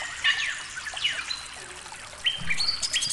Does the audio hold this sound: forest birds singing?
yes